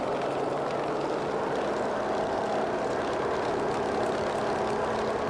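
A Grumman F3F propeller plane's radial engine drones steadily during its takeoff run in Microsoft Flight Simulator, a loud, unbroken rumble with propeller buzz and no voices.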